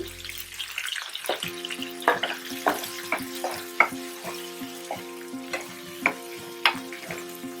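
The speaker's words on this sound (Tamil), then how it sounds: "கொஞ்சம் சின்ன வெங்காயம், அதையும் இடித்து வச்சுருக்கேன், அதையும் போட்டுக்கலாம். அப்புறம் அது கூட கருவேப்பிலை. நல்லா வணங்கட்டும்." Crushed small onions and curry leaves fry in a pan for a South Indian fish curry, with a steady sizzle broken by regular, sharp clinks from a stirring spoon, fairly close and alone.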